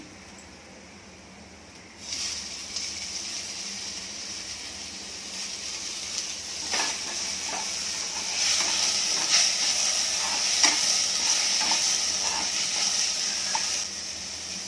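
Cluster beans with onion and tomatoes fry in a pan, a steady close sizzle that jumps louder after about two seconds and keeps hissing, with faint scraping from stirring.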